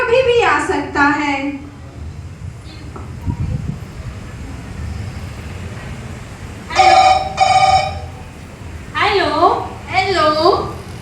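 A telephone rings in two short bursts of trilling electronic tones, with talking beforehand and a steady low background hum throughout.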